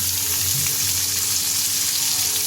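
Prawns frying in a pan in a home kitchen, a loud continuous sizzle and crackle of hot oil filling the whole clip with faint low hum beneath.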